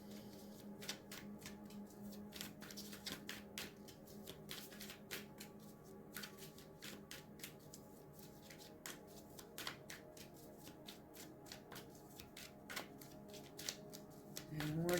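Tarot cards are shuffled in steady, crisp riffling flicks that repeat evenly throughout, quiet and close with no talking.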